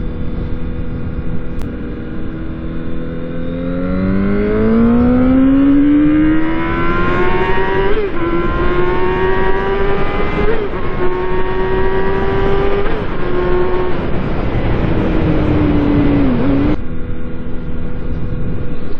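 A motorcycle accelerates hard at full throttle to about 150 mph, its engine note climbing steadily in pitch through the gears as one loud continuous roar, with no popping and no talk.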